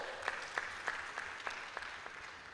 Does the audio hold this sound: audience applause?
yes